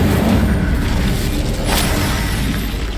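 A fire-spell blast in Hogwarts Legacy, a steady loud roaring whoosh of flame sustained throughout with a brief crackling burst midway, no voices.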